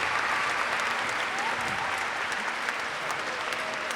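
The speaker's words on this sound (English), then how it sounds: "And the clapping of support." Spectators at a Nations Cup match give steady, dense applause in support of an injured player, a continuous wash of clapping filling the whole stretch at a fairly loud, even level.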